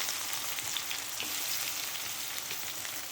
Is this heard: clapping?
no